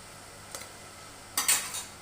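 Crispy pakoras are lifted out of hot ghee with a metal utensil, giving two brief clinks and scrapes against the pan over a faint background hum.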